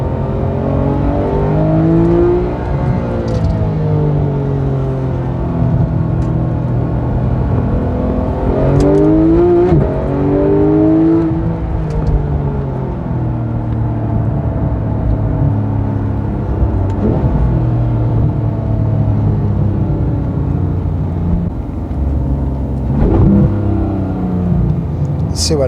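Porsche 911 GT3 engine heard from the cabin while driving, rising and falling revs with strong rumbling pulls under acceleration, loud and continuous, with someone talking over it.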